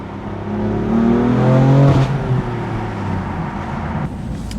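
The straight-six engine of a 2020 BMW M4 with a six-speed manual, revving loudly and close by. The pitch climbs smoothly for about two seconds, then drops away and settles into a steadier drone.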